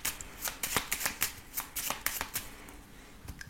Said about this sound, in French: on va faire le tirage avec le petit Lenormand